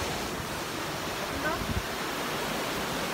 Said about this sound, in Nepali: यो चाहिँ समुद्र हो